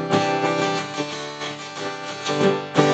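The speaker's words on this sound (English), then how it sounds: "And here's a bit of strumming." Guitar strumming coming through a Zoom call on Windows 11 without Original Sound, a few loose strummed chords with uneven accents and a sharper strum near the end, close and alone.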